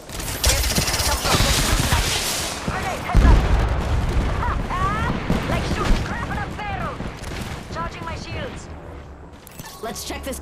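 Rapid bursts of automatic gunfire and heavy booms ring out during an Apex Legends firefight, loud and dense, with game voice lines spoken over the shooting.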